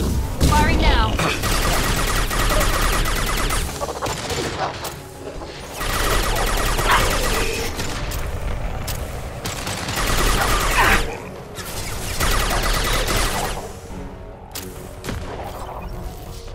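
A defense tower in a video game fires its guns in repeated loud bursts of rapid gunfire, separated by short lulls, over a busy game soundscape.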